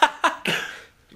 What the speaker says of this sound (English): I kind of choose to cough at the worst point.